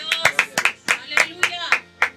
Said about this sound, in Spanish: ¿Cuántos aplauden a Dios?